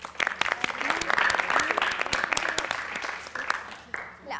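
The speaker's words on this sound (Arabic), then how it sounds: "أنا هذا التصفيق ما يعجبني" Schoolchildren applaud at a televised quiz contest between two Baghdad schools, a dense crowd clapping steadily throughout with scattered sharper claps and faint voices mixed in.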